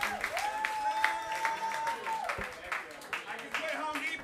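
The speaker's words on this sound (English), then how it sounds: "Give them both a round of applause for a kick-ass battle." An audience at a comedy roast battle claps and cheers after the match, the applause running under a host's amplified voice as he keeps talking.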